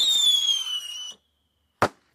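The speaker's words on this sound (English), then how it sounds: "Then kaboom, a firework went flying into the sky. Bang, it exploded." A firework launches with a long descending whistle for about a second, falls silent briefly, then bursts in a single sharp, loud bang that fades quickly.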